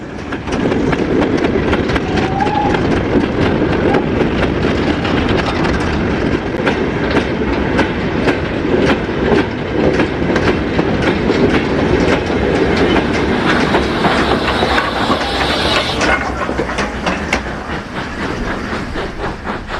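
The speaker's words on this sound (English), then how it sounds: "An unidentified red engine takes a freight through Newport Harbor" A freight train hauled by a red engine rolls by through Newport Harbor with a continuous rumble and rhythmic clickety-clack of wheels over rail joints, loud and close throughout.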